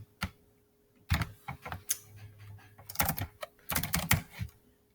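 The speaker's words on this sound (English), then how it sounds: "I would just type in my student names" Someone types on a computer keyboard, entering names. The keys sound in short, irregular bursts of sharp, close clicks separated by brief pauses.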